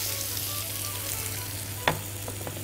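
Onion frying in olive oil, a continuous, even sizzle alongside a low steady hum, with one sharp clink partway through.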